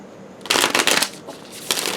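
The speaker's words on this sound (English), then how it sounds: "Oh, I didn't like that shuffle." Tarot cards riffle and shuffle in a couple of quick bursts, crisp and close, with a short pause between them and no talking.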